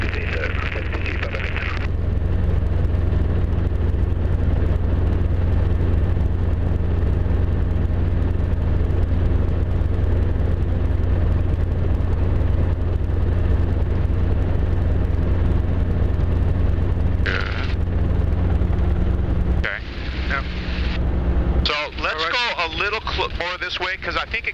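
A Robinson R22 helicopter during a slope-landing lesson, its rotor and engine droning steadily and loudly close by under intermittent radio and intercom talk, with the tone shifting near the end.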